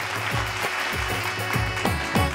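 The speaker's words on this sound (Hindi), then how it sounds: "जोरदार तालियां रक्षा भाभी का।" An audience at a Bhojpuri TV game show applauds a contestant, with steady clapping across the clip and heavy rhythmic music beats thumping beneath it.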